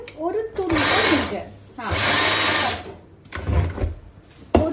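A mixer grinder whirring in short bursts while blending chicken masala in a home kitchen, three loud motor runs separated by pauses, with someone speaking between them.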